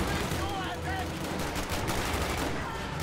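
Dense, rapid machine gun fire crackles through a battle in a WWII-style strategy video game, bursts overlapping into a continuous fusillade beneath a commentator's voice.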